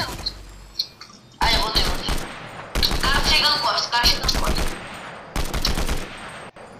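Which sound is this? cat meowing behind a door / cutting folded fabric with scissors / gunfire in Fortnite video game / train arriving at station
gunfire in Fortnite video game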